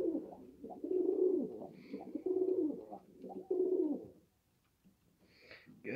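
Several Bal Kafa pigeons coo in repeated soft, throaty rolling phrases, close by and fairly loud, with brief pauses between and a quieter stretch near the end.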